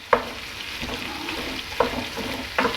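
Ground meat for sloppy joes browns in a pan with a close, steady sizzle, punctuated by three brief scraping clicks of a utensil; no talking.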